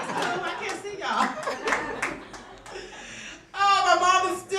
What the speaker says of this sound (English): Oh, some white people clapping.